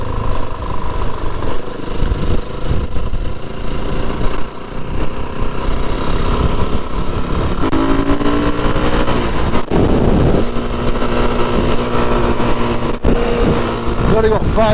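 Motorcycle engine droning steadily while riding a country road near Hampsfell, loud wind-buffeted rumble throughout with a gear change and rising engine tone partway through, no speech heard.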